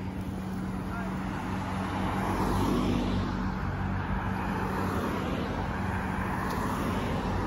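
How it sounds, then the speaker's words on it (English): Steady traffic noise from cars coming and going on a road near the Sir Adam Beck generating stations at Niagara Falls, a continuous broadband roar at moderate distance without distinct individual passes. "Lots of cars coming and going."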